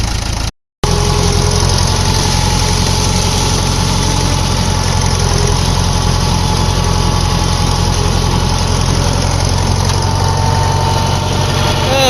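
A 1964 David Brown 880 tractor engine runs continuously at idle with a low rumbling drone, close and loud, after a brief dropout at the start.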